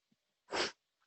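A single sneeze bursts out near the listener in a quiet room during a talk on transforming suffering, a short loud blast with faint breaths just before and after.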